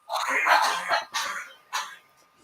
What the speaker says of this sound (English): Someone's coughing up a lung over there.